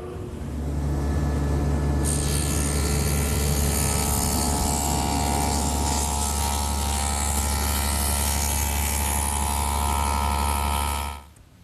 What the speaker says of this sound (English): So I'll cut the dados in the sides using my table saw, which I've set up with a stacked dado head cutter.